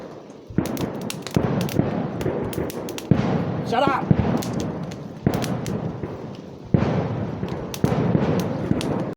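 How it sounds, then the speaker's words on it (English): Fireworks finale booming near a rainy woodland camp, a run of loud sharp bangs and rolling crackles in quick clusters, with a voice shouting briefly among them. "Fireworks had just stopped."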